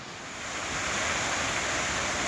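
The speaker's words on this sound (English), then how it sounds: "This is a waterfall on the, I think it's the North Fork of the Blackwater River." A waterfall on the North Fork of the Blackwater River, heard as a broad steady rushing roar that swells slightly in the first second, then holds loud and continuous with no voices.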